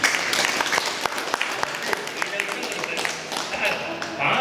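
An audience claps steadily during a speech at a temple Kumbabishekam consecration ceremony. The sharp, crisp claps go on throughout while a voice carries on over them.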